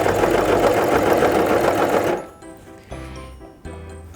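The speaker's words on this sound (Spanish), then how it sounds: "alineándola con el principio del prensatelas y continúa cosiendo" A Brother CV3550 coverstitch machine stitches fabric in a loud, fast, continuous mechanical whir for about two seconds, then stops, leaving quiet pauses broken by two brief bursts of motor noise nearby.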